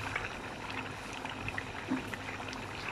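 Rice and water bubble in a pot on the stove, a dense, steady simmering hiss with faint pops that holds at an even level for the whole stretch.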